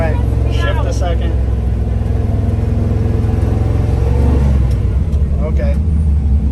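A 1973-1987 Chevrolet C10 pickup engine rumbles steadily while driving, rising slightly in revs midway, with people talking over the constant low drone inside the cab.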